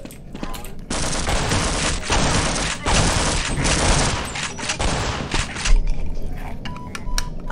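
Rapid gunfire from the Half-Life video game, with pistol shots among it, fills the mix in dense, loud bursts that stop and start, with faint voices under the shooting.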